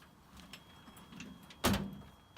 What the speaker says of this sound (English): so we're going to have to raise up the door